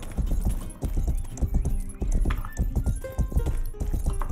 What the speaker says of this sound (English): Wait, why is my horse so slow?